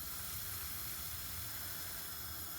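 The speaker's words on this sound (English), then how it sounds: "So you hear that sizzling" Aubergines sizzle in a pan as they soften for stuffing, a steady, close, even hiss that runs unbroken throughout with no talking.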